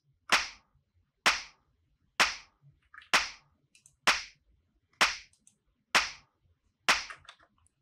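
Clap sample layered with a low snare in an Ableton minimal house track, eight sharp, bright claps landing on a steady beat about a second apart, each with a short decay.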